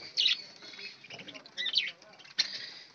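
Pet budgies chirp while eating egg and rice on a winter morning, giving faint, high, quick chirps in three short bursts over a soft, low background.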